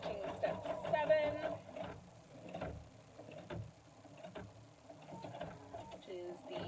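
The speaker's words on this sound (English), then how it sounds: "So the machine is just stitching step 7" Embroidery sewing machine stitching a snowman design, a quiet rapid mechanical whirr and clatter running under a person talking.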